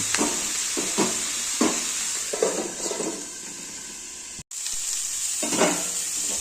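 Oil sizzles steadily in a frying pan, a close, bright hiss broken by a few soft stirring scrapes and a brief cut to silence midway, with no voices.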